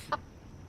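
A chicken in the video game Foolish Mortals gives a single short, faint cluck against quiet background ambience.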